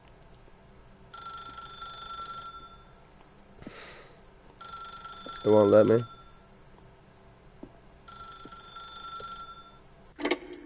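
Telephone ringing in the video game The Stanley Parable, an old-style bell ring repeating in distinct bursts with pauses between, while a person speaks briefly over it.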